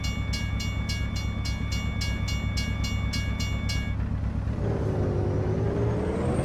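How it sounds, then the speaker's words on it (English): A Canadian Pacific train rumbles past close by in a steady roar, with a brief repeated high ringing tone, likely a crossing bell, during the first part and wheel squeal near the end. "I hear that train coming, and there he is."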